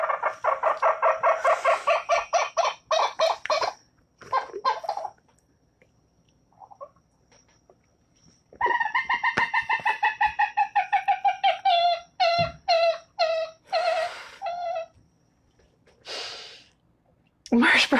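Recorded calls of a gallinule, a marsh bird: loud, rapid, nasal whinny-like outbursts in two long runs, the second one breaking into short choppy bursts, each run separated by near silence.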